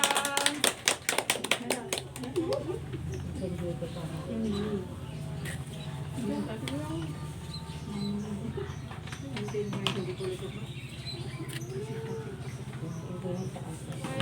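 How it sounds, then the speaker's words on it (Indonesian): A training group claps for a presenting team: a short burst of sharp, close hand claps at the start, then a voice talking over a quiet room. "beri tepuk tangan untuk kelompok dua"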